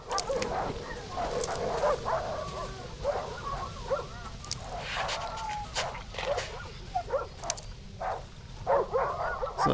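Several dogs barking and yipping in the survival horror game Darkwood, scattered sharp barks of varying loudness, some near and some farther off, over a dense, noisy background with no talking.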